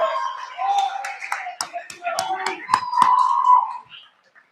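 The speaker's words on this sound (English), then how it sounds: "Give a round of applause for our athletic director right here." Audience applause at a university awards ceremony for an athletic director: a brief round of clapping that rises and fades over a few seconds, mixed with cheering and talk.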